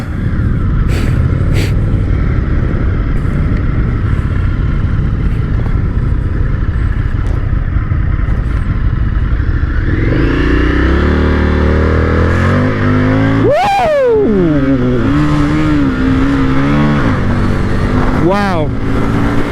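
A 2022 Indian FTR Carbon motorcycle accelerates hard: a steady loud engine drone climbs through rising revs and gear changes, with a sharp surge near the middle, close to the rider, with wind rush and a voice at times.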